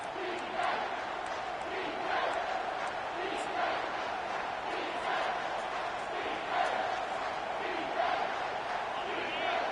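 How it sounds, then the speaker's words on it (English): A packed stadium crowd roars throughout at a Notre Dame vs UCLA college football game, a steady, distant wall of cheering with a play-by-play announcer talking over it. "this crowd is bringing down the house"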